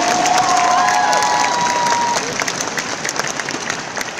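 Audience applause at a Kangen Water Life Celebration Day event, loud dense clapping with some crowd cheering that holds steady for about two seconds, then thins out and fades over the rest of the clip.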